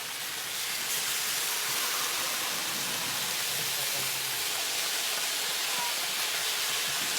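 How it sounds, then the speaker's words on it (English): Meat sizzling in its own fat over a hot fire at a Taiwanese fried rice stall, a loud, continuous broadband hiss that stays even and unbroken throughout. "So it starts to cook and starts to sizzle in its own fat."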